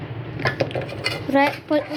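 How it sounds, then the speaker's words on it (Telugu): Metal pots and pans clank and clink close by as cooked mutton is shifted from one pot into other pots, a quick run of sharp knocks with a voice speaking alongside. "వేరే గిన్నెలకు షిఫ్ట్ చేస్తున్నాం ఫ్రెండ్స్"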